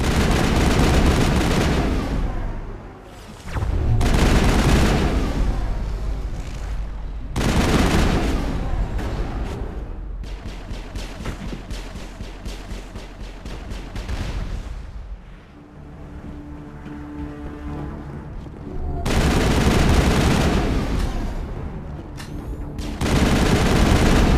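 Heavy turret gunfire in Mass Effect during a Virmire battle: long, loud bursts of rapid automatic fire with booming impacts, broken by short pauses, dense and close throughout.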